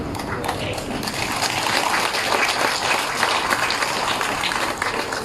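Sustained audience applause from a crowd at a political rally in a FELDA town centre, steady dense clapping at full volume throughout with no break.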